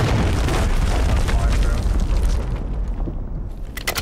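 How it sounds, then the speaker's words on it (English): A cruise missile blast in a competitive online shooter game, a loud sustained rumbling boom that fills the first couple of seconds and then decays, with a voice talking over it. "Cruise missile."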